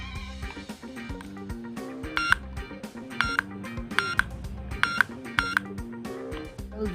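A YJ Pocket cube timer gives a series of short, sharp electronic beeps, about seven in irregular succession, over steady background music.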